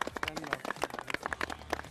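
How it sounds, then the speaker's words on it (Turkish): A studio audience at a Turkish university quiz show claps for the winning team, a dense, lively burst of nearby hand claps filling the moment. "son dakika golüyle yarışmayı kazanan sağ tarafındaki ekibi bir daha alkışlayalım"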